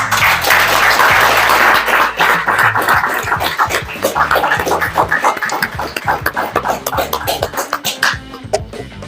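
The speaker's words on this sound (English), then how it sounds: "Let's welcome Miss Nikita Dani with a big applause." An audience at a mental-illness awareness event applauds to welcome a speaker. The clapping starts as a dense, loud wash, then thins into scattered individual claps toward the end.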